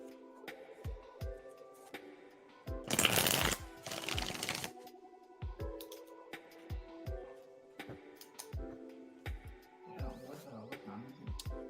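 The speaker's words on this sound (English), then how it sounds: "All right, shuffling for you now, Lisa." Tarot cards being shuffled by hand during a reading, with soft flicks and taps, a louder riffle in the middle and more light card handling around it. Some quiet talk is mixed in.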